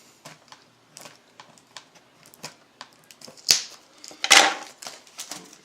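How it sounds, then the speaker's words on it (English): Plastic seal wrap being picked at and torn off a 2011 Select NRL Strike trading card box: a series of small close crinkles and ticks, then two louder crackling rips of the film, with no talk. "So we'll just get this plastic seal off."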